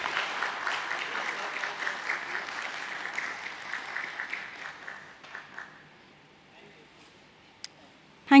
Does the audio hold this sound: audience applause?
yes